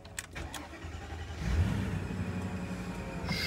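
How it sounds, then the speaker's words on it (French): An E85 ethanol-converted car cold-starts on a 1-degree morning after a night outside: a short whir of the starter, then the engine catches at about halfway and settles into a steady, rumbling idle, close and loud, with no talk. "Le véhicule est froid, je vais vous montrer comment il démarre."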